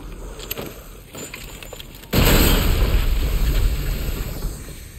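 A pipe bomb detonates in Resident Evil Village, a sudden loud blast after a couple of seconds of quiet ambience, followed by a sustained rumbling roar of debris and wind.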